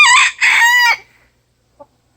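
A rooster in a backyard chicken run crows loudly and close, a two-part call lasting about a second, followed by a faint short cluck after a pause.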